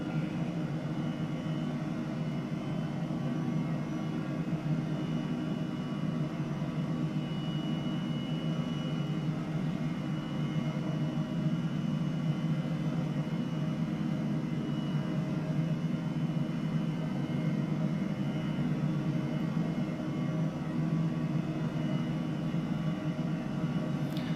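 An H135 helicopter in Microsoft Flight Simulator flies near Melbourne, its turbine and rotor making a steady, even drone throughout with no voices.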